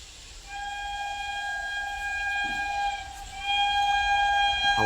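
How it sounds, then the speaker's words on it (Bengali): A train nearby, heard from a fishing spot, sounds a sustained tonal horn or whistle over a low rumble. The tone holds steadily, breaks briefly, then returns slightly louder. "ট্রেন আসছে ট্রেন আসছে"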